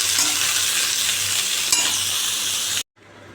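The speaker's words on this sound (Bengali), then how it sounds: "গোটা জিরে দিয়েছি তেজপাতা দিয়েছি শুকনো লঙ্কা দিয়েছি দিয়ে একটু তরকারি করছি লাল করে ভেজে নেবো আগে" Vegetable curry frying in hot oil with whole cumin, bay leaf and dry chilli, a steady close sizzle with light stirring, which cuts off abruptly near the end and leaves a quieter hiss.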